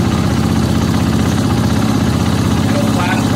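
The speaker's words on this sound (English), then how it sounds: "Now you can fire your bike back up." A KTM motorcycle engine idling after being started, a steady, loud, close rumble with an even low throb and constant vibration throughout.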